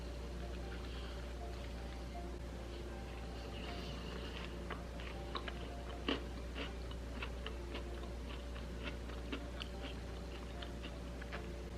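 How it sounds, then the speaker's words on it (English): Someone bites into a flaky vegan biscuit dipped in gravy and chews it, producing a quiet series of small crunchy clicks spread irregularly over a low steady background hum. "Just dip it into the gravy and take a bite."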